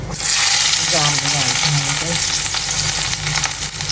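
Garlic frying in a pan in a home kitchen, a loud, steady sizzle that fills the whole clip, with a faint voice-like murmur underneath.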